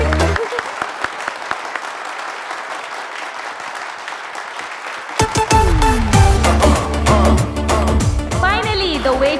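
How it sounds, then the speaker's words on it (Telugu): Audience applause for Karthik's arrival on a prank show, a dense clatter of claps for the first five seconds, giving way to loud music with voices talking over it. "everybody clap for Karthik"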